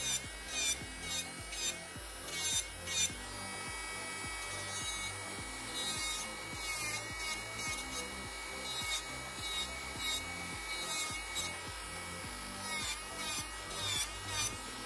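A nail file rasps against the sides of a fingernail in quiet, rhythmic strokes, soft and close, with no voices.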